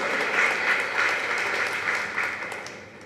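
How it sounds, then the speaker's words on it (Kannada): Audience at a Kannada humour and literature event in Mangaluru breaks into steady, dense clapping that holds loud from start to finish, a sustained wash of many hands with no voices over it. "ತಟ್ಬೋದು ಚಪ್ಪಾಳೆ"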